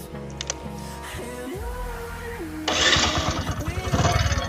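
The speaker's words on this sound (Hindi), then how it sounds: "चलिए बाइक को स्टार्ट करते हैं अब।" A Bajaj Discover 100M motorcycle being started: a low whirring and mechanical noise gives way to the engine catching, then a louder, pulsing exhaust idle and revving near the microphone.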